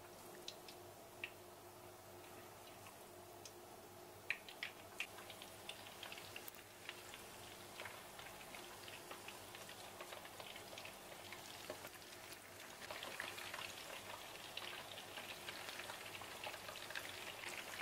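Strips of beef frying in a hot pan until crisp, with a steady, moderately quiet sizzle and spatter crackling throughout and getting a little louder toward the end, with no voices over it.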